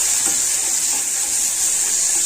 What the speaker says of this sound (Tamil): ஒரு மீடியம் சைஸ் தக்காளி பொடியாக கட் பண்ணி வச்சது சேர்த்து இதையும் நல்லா வதக்கிக்கலாம்